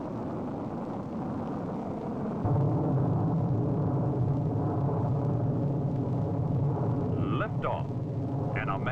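A rocket engine ignites and lifts off, first a low background roar, then a sudden swell into a heavy, continuous rumble, with a voice briefly heard near the end.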